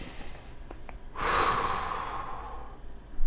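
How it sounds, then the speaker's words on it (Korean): One deep breath is drawn in during a guided breathing exercise: a long, close, airy inhale lasting about a second and a half against a quiet background. "숨 크게 들이쉬고"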